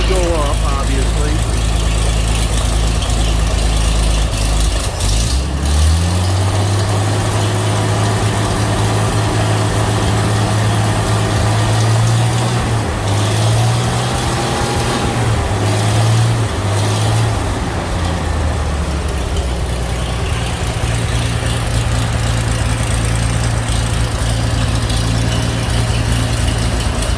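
The engine of a 1936 Chevy pickup running close by, a steady loud idle with a couple of revs rising and falling in pitch as the throttle is blipped.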